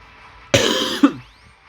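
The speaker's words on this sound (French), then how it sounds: "Et j'aimerais bien arrêter de tousser" A single sharp, close cough that breaks into a second short hack before fading, loud against a quiet room.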